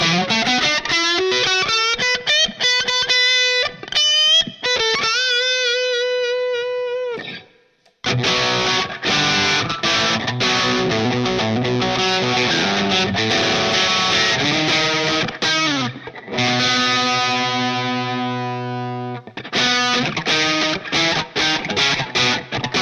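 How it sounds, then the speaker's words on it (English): Electric guitar runs through a Tube Screamer overdrive model on a Line 6 POD HD500, playing loud distorted riffs and sustained chords with a brief gap near the middle. No one speaks. "I like that tube screamer."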